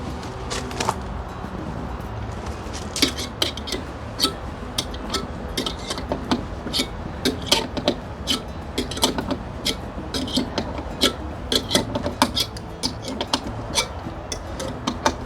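Threaded eyelets are twisted by hand into a post for a vineyard trellis wire in a garden, giving a long run of close, irregular clicks and small creaks with no talk.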